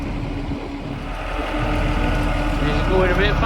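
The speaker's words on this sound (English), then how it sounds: "The lorry is moving." A lorry unloading mushroom compost on a farm field rumbles with a steady low engine drone that grows louder as it pulls away, with wind buffeting the microphone.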